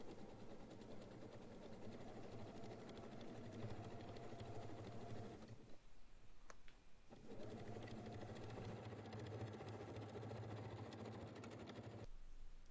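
Sewing machine stitching the side panels of a large shopper bag with a 1 cm seam allowance, running steadily and close with a constant whirring hum, pausing briefly near the middle before starting again.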